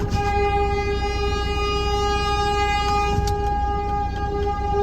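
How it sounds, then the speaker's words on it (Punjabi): A loud, sustained train horn blares steadily throughout, its layered tones holding over the rumble of the passing train, with no talking. "ਲਓ ਜੀ ਆ ਗਈ ਟ੍ਰੇਨ ਵੱਜ ਰਿਹਾ ਹਾਰਨ ਦੇਖੋ"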